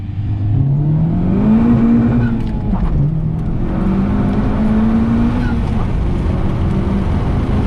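Loud Nissan S14 drift car engine revving hard and continuously, its pitch climbing, dipping and climbing again as the throttle is worked, close and dominant throughout with no talking.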